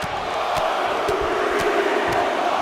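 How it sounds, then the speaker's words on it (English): Arena crowd noise in the WWE 2K23 wrestling video game, a steady loud roar of a capacity crowd with sharp periodic thumps cutting through it. "you hear this capacity crowd following you on that journey"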